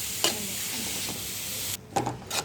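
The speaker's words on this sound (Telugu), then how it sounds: "నేతిలో చక్కగా క్యారెట్ అంతా ఫ్రై అవ్వాలి. తురిమి పెట్టుకున్న సొరకాయ యాడ్ చేసుకుందాం. ఒకసారి మిక్స్ చేసుకుందాం అంతా కలిసేలాగా." Grated carrot and bottle gourd frying in ghee for halwa hiss with a steady broadband sizzle, broken by a few scraping stirs of the pan, close and moderately loud with no talk.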